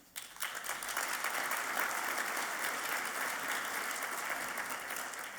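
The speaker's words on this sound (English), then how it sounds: "Everybody's clapping, they don't even know what it is yet." A business-summit audience breaks into applause for Maryland's governor, the clapping swelling quickly into a dense, sustained roar of many hands that holds steady throughout with no voices over it.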